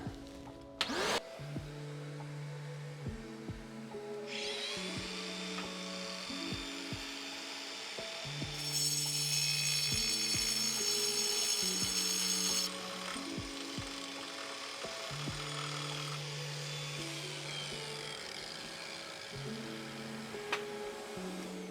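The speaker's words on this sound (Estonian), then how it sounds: "Me vaatame, kuidas see ketas seda kivi nüüd lõikab" A Distar cutting disc sawing through 2 cm thick stone, a steady grinding whine held throughout with rhythmic tonal pulses and a brighter, harsher stretch in the middle, no talk.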